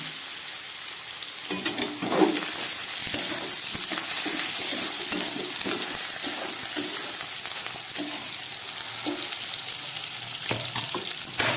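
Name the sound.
oyster mushrooms frying in oil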